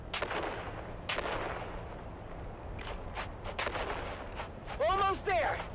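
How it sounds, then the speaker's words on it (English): Grenades bursting during Dune Awakening combat, several deep booms and cracks scattered through the stretch, fairly quiet and distant, mixed with gunfire and other battle noise. "On 3, we grenade and move! 3, 2, grenades out!"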